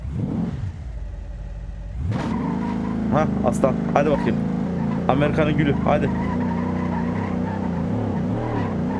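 A car's engine revs hard in repeated bursts while its tires squeal and skid climbing long stairs, close and loud, with someone shouting encouragement over it.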